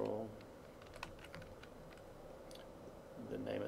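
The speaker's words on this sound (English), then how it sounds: "I'm going to type" Light typing on a computer keyboard, a scattering of soft close key clicks under a background hum with faint voice sounds at the start and end.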